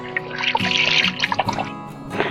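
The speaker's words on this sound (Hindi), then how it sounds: "अब हम डाल रहे हैं पानी" Water is poured into a pressure cooker holding beef trotters, a brief close splashing and trickling pour with a few drips.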